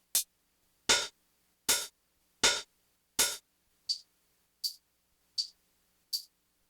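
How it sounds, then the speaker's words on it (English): A kick drum sample from a Roland P-6 and an MPC60 sounds alone as nine isolated, evenly spaced hits. The first five are full and punchy, and the last four are thinner and clickier. "let's just take a listen to the drum sounds on their own. We got the kick."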